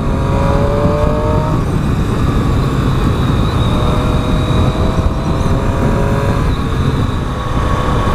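2018 Triumph Street Triple R motorcycle engine howling while riding, loud and close, with a rising and shifting whine as revs climb and change through gears over a constant roar of wind.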